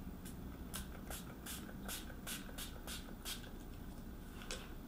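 Short hissing bursts of a makeup setting spray bottle repeat in an uneven rhythm, close by and fairly soft, with no talking.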